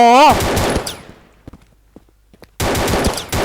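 Video game gunfire: rapid automatic bursts opening and closing the moment, with sparse quieter shots between, close and loud over excited talk.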